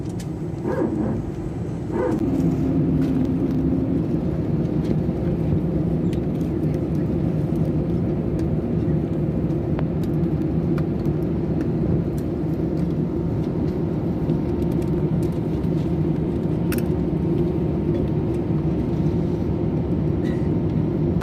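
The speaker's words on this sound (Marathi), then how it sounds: "आपलं प्लेन आहे ना टेक ऑफ होते पहा" A British Airways airliner takes off from the runway, a loud continuous engine roar heard from inside a neighbouring plane, steady and droning throughout with faint cabin noise.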